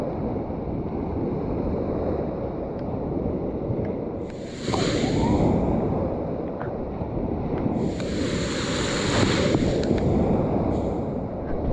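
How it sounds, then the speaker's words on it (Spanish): Waves and heavy tropical rain on a Caribbean beach during a storm, a dense continuous roar of surf with wind buffeting the microphone, swelling in two stronger surges, no talking. "con este tiempo de fuerte lluvia, no fuerte, fuertísima"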